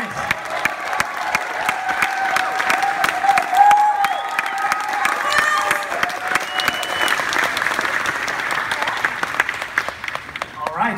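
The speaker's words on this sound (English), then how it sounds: "Give a huge round of applause to Nancy Cartwright." A big crowd at Florida Supercon claps and cheers for Nancy Cartwright as she arrives for a Q&A. The sound is dense, sustained applause with whoops, and voices carry through it the whole time.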